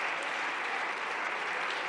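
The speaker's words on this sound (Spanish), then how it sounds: "Con una ovación de los que ayer mismo le retiraron su apoyo." Sustained ovation in a parliamentary chamber, a dense steady roar of many hands clapping at even loudness throughout, with no voices rising above it.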